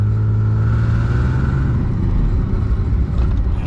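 A Nissan 300ZX convertible with a shaky driveline pulls away hard, its engine droning loud and steady from inside the car with a constant low road rumble.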